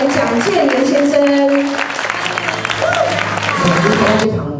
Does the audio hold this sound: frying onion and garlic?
no